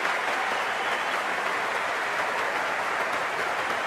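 Crowd at a cricket stadium in the Cricket 24 video game, a dense continuous roar of applause and cheering that holds steady throughout, loud and uninterrupted with no clear individual voices.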